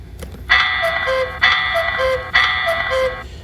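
Three sustained bright chime tones ring out in succession from a CareTech ZeitGeist clock's hourly chime, each a clear synthesized bell-like Westminster-style phrase, loud and close with no talking.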